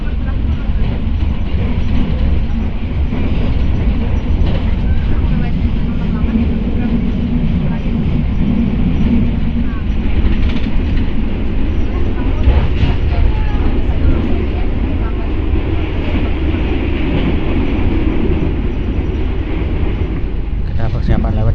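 Taksaka passenger train running on rails, a loud continuous rumble with rattling wheels and occasional clacks, heard from inside the carriage under faint talk.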